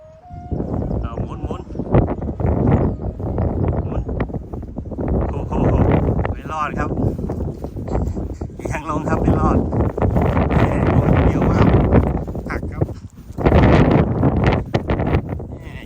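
Strong gusts buffet the microphone outdoors while a large Thai chula kite is flown, a loud roaring rumble that swells and dips throughout, with someone talking over it.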